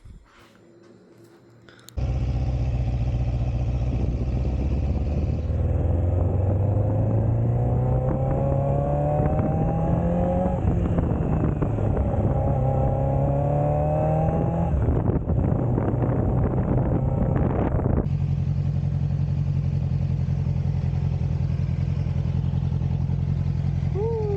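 Motorcycle being ridden, engine droning and rising through gears with a steady pitch climb, heavily buffeted by loud constant wind rush over the microphone, starting abruptly after a quiet opening and holding loud throughout.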